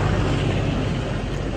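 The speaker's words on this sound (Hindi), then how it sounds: "रुको ट्रक को जाने दो" A truck on the road rumbles past close by with a loud, steady roar of engine and tyre noise that fills the whole moment and drowns out everything else.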